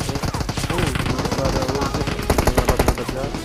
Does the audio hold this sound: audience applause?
no